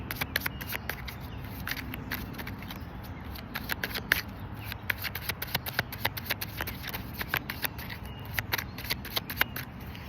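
Tarot cards shuffled on a table during a reading produce a run of quick, crisp riffling clicks and soft rubbing, close and moderately quiet, repeating irregularly over a faint steady background hum.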